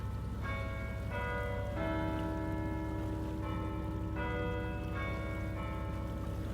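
A church bell in Portsmouth tolls the hour with several resonant, overlapping strokes at a steady pace, heard from some distance over a constant background hiss like rain.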